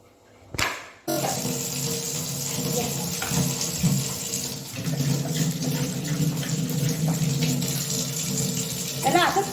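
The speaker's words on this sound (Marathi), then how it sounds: "त्याला पाहिजे हे नळाचं पाणी" A kitchen tap runs so a dog can drink, giving a steady rushing splash that continues after a sharp burst at the start. Speech is mixed in intermittently.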